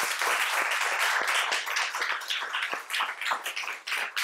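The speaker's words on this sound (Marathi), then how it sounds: "त्या सगळ्यांना एकदा जोरदार टाळ्या देऊया आपण." Loud, dense applause from an audience honoring a group of uniformed children, steady clapping with scattered sharper claps that thins slightly toward the end, with no speech over it.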